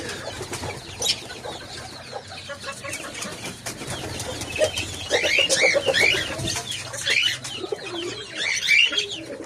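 Chickens cluck in a noisy mix of caged birds including parrots and pigeons, the calls growing busier and louder in the second half.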